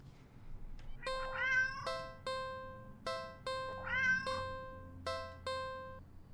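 Inside a video game, a cat meows again and again in clear, tonal, drawn-out calls with sharp pitch rises, repeated about eight times over a quiet low background hum.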